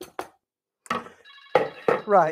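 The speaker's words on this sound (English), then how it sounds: "That's my phone." A phone rings in a home kitchen during cooking, with several short repeated tone bursts sounding clearly between brief bits of nearby speech.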